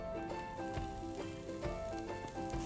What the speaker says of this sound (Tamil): இதில் நம்ம இப்போ வெங்காயம் சேர்க்க போகிறோம்.